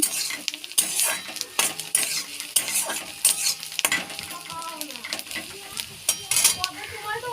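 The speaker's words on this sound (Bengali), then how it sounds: "প্রথমে আমি পেঁয়াজগুলো তেলে ভেজে নিচ্ছি" Onions sizzling steadily in oil in a pan while a utensil scrapes and stirs repeatedly, sharp metallic clinks punctuating the frying.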